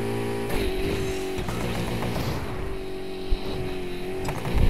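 A Bugatti hypercar in the racing video game Need for Speed Heat holds a steady, loud engine drone with a shifting pitch, a brief thump near the end, and no talk.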